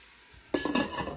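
A metal lid clanks down onto a pot of browning pork ribs for caldereta, giving one sharp metallic clatter followed by a short rattle as it settles, close and fairly loud over a quiet kitchen.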